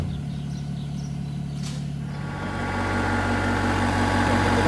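Engine of a backhoe idling steadily while rigged as a puller on a seized wheel bearing hub of a vintage MCI bus, the low rumble swelling louder and rougher midway through with no talk.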